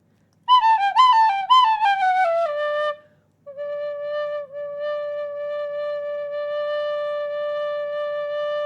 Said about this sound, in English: That was an extra long Tin Whistle note for the VOD.